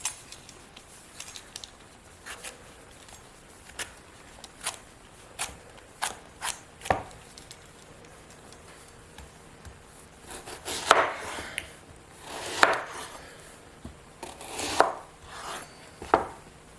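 A knife chops a parsnip into cubes on a cutting board, sparse sharp knocks at first, then quicker clusters of cuts, close but fairly quiet.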